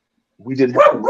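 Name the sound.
dog barking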